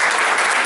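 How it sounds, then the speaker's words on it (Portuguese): Congregation at a Friday evening sisters' church congress applauding, a dense, steady burst of clapping filling the short moment without a break. "Quem pode aplaudir agora?"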